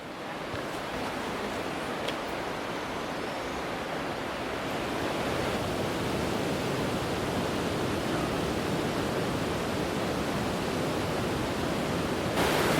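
Rushing river water flows continuously beside a gorge hiking trail, a broad steady wash of sound that stays even and fairly close throughout, with no voices.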